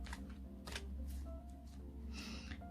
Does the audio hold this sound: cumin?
no